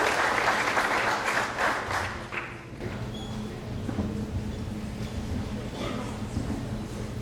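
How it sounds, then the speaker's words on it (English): Audience applause at a senior awards night for scholarship donors, a dense burst of clapping in the first few seconds that fades into quieter crowd murmur and scattered claps. "if you would give a round of applause for all these fine people that give out these scholarships"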